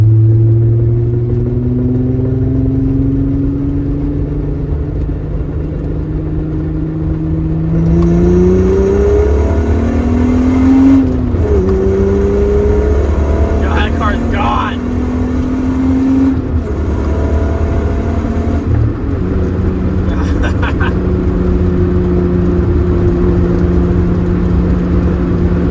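Tuned VR6 car accelerating hard on the Autobahn, engine note climbing through repeated rising sweeps with brief dips at gear shifts, loud and close with strong wind and road roar throughout.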